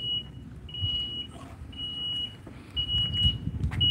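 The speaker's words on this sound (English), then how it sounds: "See that beep? It's talking to us." A boom lift sounds its warning for a key left on: repeated long, steady electronic beeps in an on-off pattern, moderately loud outdoors over low rumbling background noise, with no talking.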